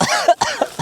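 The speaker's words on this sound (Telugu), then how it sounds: "ఎందుకురా దగ్గు వచ్చింది నీకు?" Several short coughs from a person irritated by pungent cooking fumes from tempering outdoors, sharp bursts close by in quick succession.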